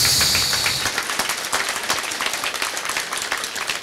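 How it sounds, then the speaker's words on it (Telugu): An audience applauds at the Goda Kalyanam spiritual ceremony on television, with dense, fast clapping that starts loud and stays sustained, and no clear voices above it. "అందరికీ చక్కగా give a big round of applause"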